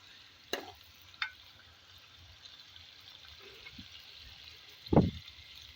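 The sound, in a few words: chicken being stirred and fried in a karahi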